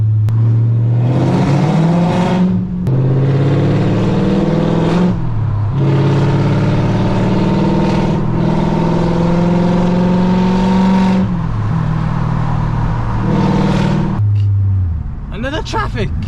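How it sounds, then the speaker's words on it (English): A loud Audi V8 with a NASCAR-style exhaust drives through a tunnel, its engine droning and revving in repeated pulls with brief gear-change dips, echoing loudly close up with no talk. "Nice little tunnel, so we're gonna hear this car nice and loud."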